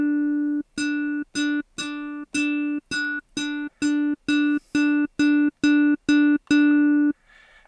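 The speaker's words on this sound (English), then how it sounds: "With the resonating engine," Waldorf Iridium synthesizer using its Resonator Engine plays a repeated plucked, resonant exciter note, about a dozen evenly spaced hits with sharp attacks and short ringing decays, close and alone.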